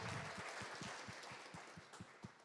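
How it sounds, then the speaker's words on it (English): Audience at a charity gala auction claps together, a dense patter of hands with scattered sharper claps, moderately distant and fading slightly over its short length. "let's give everybody a big round of applause"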